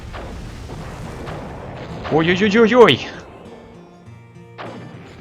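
Rapid cannon fire from a frigate in the Cossacks strategy game, a dense burst of booming shots lasting about a second, with someone shouting in alarm over it and talking before and after.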